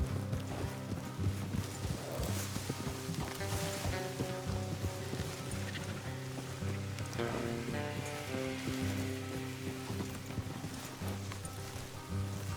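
Rhythmic hoofbeats of horses walking in Red Dead Redemption 2, steady clip-clop over a bed of game music, no speech.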